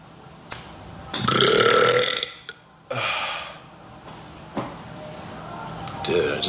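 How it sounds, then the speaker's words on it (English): A muscular blond man lets out loud, drawn-out burps, one long belch followed by shorter ones, close and forceful, with gaps of breath between them. "You know the burps will start coming."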